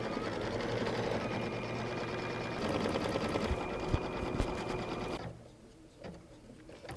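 A sewing machine stitches fabric for a patriotic puff form project in a steady, fast mechanical run, close and continuous, then stops abruptly near the end and leaves a quieter room.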